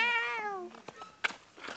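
A cat gives one drawn-out meow with a falling pitch on an outdoor walk, close and clear, followed by faint scuffs and small movement noises.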